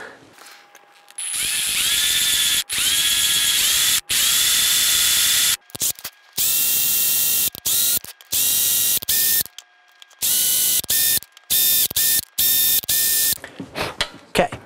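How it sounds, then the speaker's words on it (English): A power drill bores tuner holes into a Squier Bullet Stratocaster headstock, with several loud whining bursts of a few seconds each, separated by short pauses and quick trigger blips toward the end. "Okay, holes drilled."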